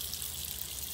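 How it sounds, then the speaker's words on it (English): Tap water runs steadily into a sink for hand washing, a soft continuous hiss with no breaks and no voices. "Let me go wash my hands"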